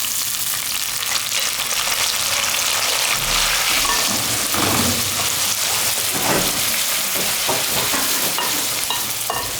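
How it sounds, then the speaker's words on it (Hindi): Beef pieces frying in oil with onion and garlic for a Pakistani beef karahi, a loud, dense, steady sizzle with stirring scrapes throughout, close and continuous with no talking. "गोश्त को हमने ऑयल में अच्छे से फ्राई कर लेना है।"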